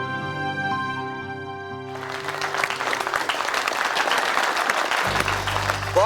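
Applause breaks out from a studio audience after a dance on a children's TV show, loud and dense clapping rising suddenly over fading music and holding steady to the end.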